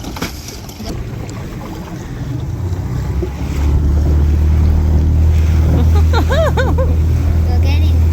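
A small boat tender's outboard motor runs across open water with a steady low drone that builds and then holds. Wind buffets the microphone and water splashes around it, while people talk and laugh over the noise.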